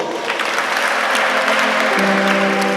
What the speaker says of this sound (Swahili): Hata umechukua mke mzuri, mpigeni makofi Julius